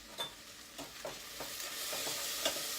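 Okra browning in a pan for a lentil masala, a steady gentle sizzle broken by several soft spatula scrapes and stirs at close range.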